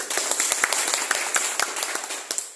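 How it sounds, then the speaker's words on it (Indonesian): Scattered, uneven claps from a small gathering at a farewell event for a Hindu community official in Banten, individual sharp hand claps popping out irregularly rather than blending into a roar. "Kita tepuk tangan"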